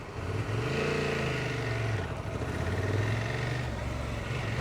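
A Honda Transalp motorcycle engine runs steadily on a test ride, its loud, close mid-range drone rising and falling with throttle changes throughout, with no talk over it.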